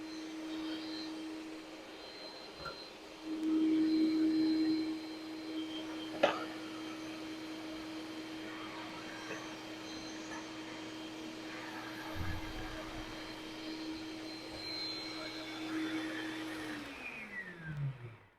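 An electric mixer beats butter for a red velvet cake, giving a steady, droning whine that swells briefly early on, holds constant and then winds down to a stop near the end.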